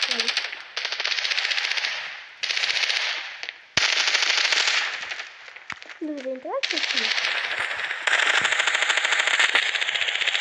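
Rapid automatic gunfire from the video game Standoff 2 rattles in long bursts with brief pauses, loud and close, while a voice speaks briefly in Ukrainian in the middle.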